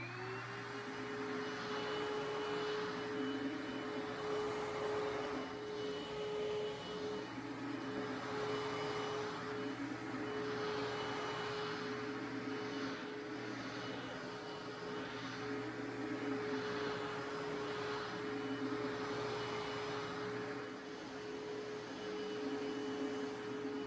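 A 1982 Panasonic Jet Flo MC-672 vacuum cleaner runs on carpet with a steady loud motor whine and airy roar, its tone swelling and easing rhythmically as it is pushed back and forth, with no talk.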